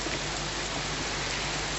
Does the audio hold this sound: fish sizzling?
no